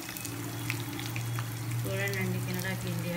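Pieces dropped into hot oil already crackling with cumin and mustard seeds, a steady close sizzle and hiss with a steady hum and faint water-like noise beneath.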